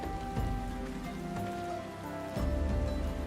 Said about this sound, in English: And just standing in the rain.